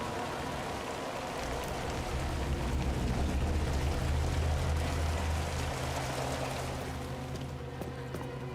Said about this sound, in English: I hear rain, but I don't see rain.